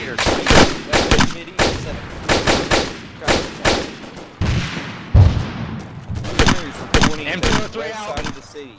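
Gunfire in the ArmA 3 military shooter during a co-op ridgeline assault: repeated sharp rifle shots and bursts, loud and close, with irregular volleys and some distant cracks, while voices speak over radio in between.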